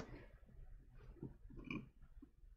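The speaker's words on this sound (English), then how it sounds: "Sorry. Burp." A single low, gurgling burp from a person rumbles out over about two seconds, close and fairly quiet, with no talking around it.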